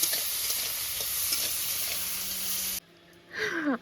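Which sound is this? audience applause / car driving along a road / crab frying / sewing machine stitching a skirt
crab frying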